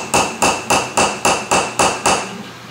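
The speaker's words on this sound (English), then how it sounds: "I can use this little bitty drift here and just kind of tap it down in the hole" A hammer taps a small drift punch down into a hole on a go-kart part, seven sharp, evenly spaced metallic strikes with a bright ringing tone and no talk.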